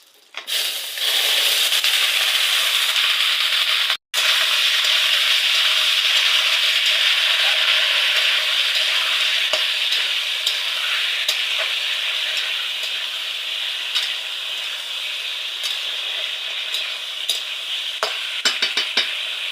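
Chopped vegetables fry in a pan with cumin and bay leaf, a loud, steady sizzle that hisses without pause, with scattered crackles and pops growing toward the end.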